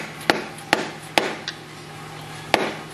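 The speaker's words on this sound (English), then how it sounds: "I'm gonna bang 13-16 on with a hammer." A hammer drives a 13/16 socket onto a bolt during a 5.3L small block engine teardown, with four sharp metallic knocks spaced about half a second apart, a lighter tap, then one more strike after a pause over low shop hum.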